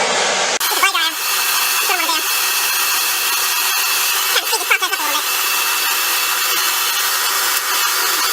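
A hair dryer blowing loud and steady up close while drying a face after makeup primer is applied, a constant whooshing roar that starts abruptly and holds throughout.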